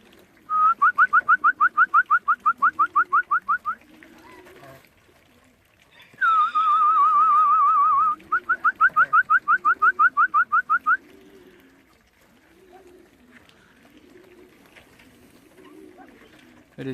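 Racing pigeons on junior training give rapid rhythmic trilling whistles in two long bursts, over soft repeated low coos close by, with quiet gaps between.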